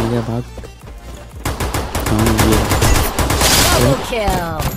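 Rapid bursts of gunfire in the Free Fire battle royale game, loud overlapping shots in quick rhythmic volleys, with a voice talking over the action.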